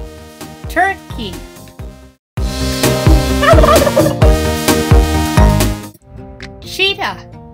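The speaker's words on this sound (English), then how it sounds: "Turkey." A turkey gobbles in rapid rattling bursts, loud and close, broken by a short silence and followed by a final gobble after another gap.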